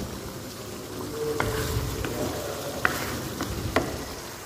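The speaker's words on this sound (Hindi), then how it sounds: "इधर मैं बुनाई कर रही हूँ" A dish for a light shorba fries steadily in a pan, with continuous close sizzling broken by a few sharp clicks and scrapes of stirring.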